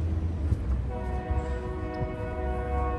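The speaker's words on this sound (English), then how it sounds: "Oh yeah, I hear the train too." A train horn sounds at a distance in a historic city street area, a sustained tone beginning about a second in and holding to the end, faint over rumbling outdoor ambience.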